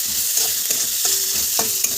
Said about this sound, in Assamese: অলপ ভাজি লওঁ, তাৰপিছত আলুখিনি দি